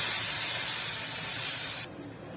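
Water poured into a hot pan of fried besan (gram flour) gives a loud, steady hiss and sizzle that holds strong, then abruptly drops off near the end.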